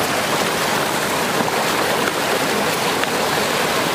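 Clear mountain stream in Arunachal Pradesh rushing steadily, a dense, loud, continuous wash of flowing water with no pauses.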